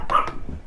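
A pet dog named Lexi gives one short, close bark at a house, followed by a brief low trailing sound.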